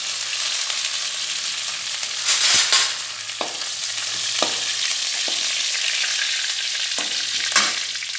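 Curry leaves, dry red chillies and garlic frying in hot oil give a steady, loud sizzle throughout, with a brief louder crackle burst and a few sharp taps from stirring.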